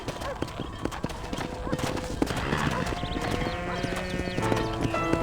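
Horse hooves clip-clop steadily in Red Dead Redemption, with a horse neighing and whinnying amid ranch ambience, while voices talk over the sounds.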